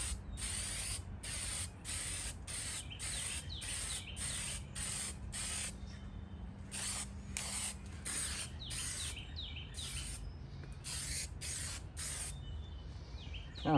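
Rusty screws on the sail panels of a 1999 Escalade get spray painted in a long series of hissing aerosol bursts, each a second or so, separated by short gaps, close and steady.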